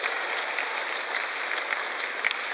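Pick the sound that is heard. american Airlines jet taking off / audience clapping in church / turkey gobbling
audience clapping in church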